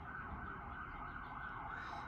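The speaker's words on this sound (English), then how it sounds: "Sirens are coming through." Emergency vehicle siren passing outside a window, a faint, steady wailing tone with low traffic rumble beneath, heard from indoors at a distance.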